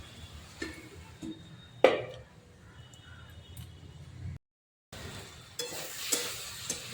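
Puti fish curry fries in a pan with a soft, low sizzle, broken by a sharp scrape or clatter and occasional stirring sounds, briefly cutting out before the frying hiss returns louder.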